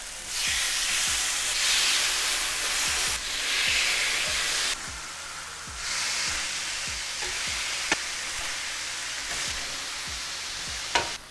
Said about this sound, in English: A little oil, taco seasoning, and straight onto the grill.